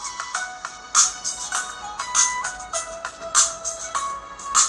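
Tinny melodic playback from the small built-in speakers of a Powkiddy X35s handheld, a bright tune with repeated chiming notes and a steady pulsing rhythm, fairly close and moderately loud, with no one talking over it.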